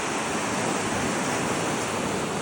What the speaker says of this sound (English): There's lots of waves.